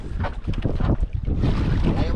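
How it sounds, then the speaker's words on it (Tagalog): Gusty wind blows outdoors at a building site, buffeting the microphone with loud, rough low roaring bursts that rise and swell throughout, under scattered voices. "Mahangin."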